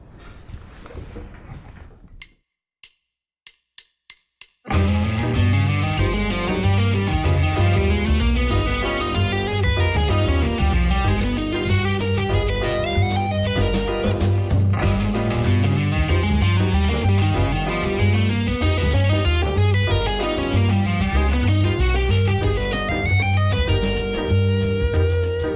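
Fusion electric guitar plays a long, chromatic legato line on the G altered scale against a full band backing track. A few brief clicks and a short gap come first, then dense, continuous music runs loud and steady to the end, with no voices.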